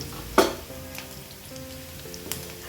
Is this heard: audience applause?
no